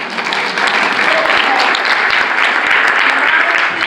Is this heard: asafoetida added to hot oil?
no